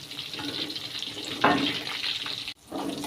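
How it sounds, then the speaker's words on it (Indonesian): Tofu pieces frying in hot oil for crisp stuffed tofu, a steady broad sizzle and crackle throughout with a brief louder surge midway and a short dip near the end. "Ini kita goreng sampai kering, sampai berwarna coklat."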